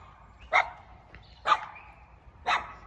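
Small dogs at a neighbouring campsite bark in three sharp, evenly spaced bursts about a second apart, moderately close and clear over a quiet background.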